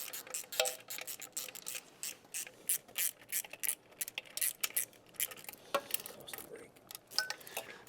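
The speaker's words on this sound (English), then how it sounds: "I got a 1/4 inch socket here with a little wobble to get down in there." A ratchet with a 1/4 inch socket and wobble extension clicks in quick bursts while tightening Edelbrock E-Force supercharger bolts, close and crisp, with a few metallic taps between strokes.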